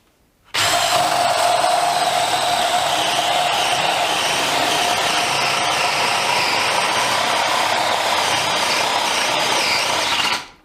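DeWalt Atomic DCD709 combi drill in second speed bores with a 32mm bit, starting abruptly and holding a loud, steady whining grind for about ten seconds before cutting off, close and alone.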